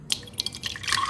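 Suhana butter paneer masala stirred into water is poured into oil-separated gravy for matar paneer, a short wet dripping and splashing pour of liquid with a few bright splats, close and fairly quiet.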